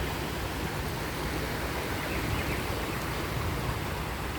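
Steady, soft wash of sea waves on an evening shore in Hong Kong, a continuous even hiss without distinct breaks, heard alone.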